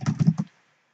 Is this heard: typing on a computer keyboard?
yes